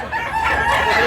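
A rooster crows loudly and close by at a busy poultry market in Tabunok, Cebu, one drawn-out call with faint background chatter.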